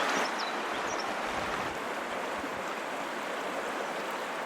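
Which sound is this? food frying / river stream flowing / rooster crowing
river stream flowing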